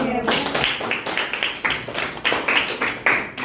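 A classroom of students claps together in rhythmic bursts of group applause, loud and close, with some voices mixed in.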